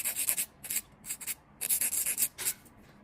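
A nail file rasps back and forth across a fingernail tip while shaping a square nail extension, in short bursts of scratchy strokes with brief pauses between, close and fairly quiet.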